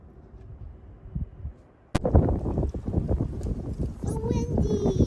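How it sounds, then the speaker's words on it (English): Strong wind buffets the microphone outdoors during a kids' birdhouse painting session, a sudden loud broadband roar kicking in partway through and continuing steadily to the end, with brief voices and a faint tonal whine on top. "So windy!"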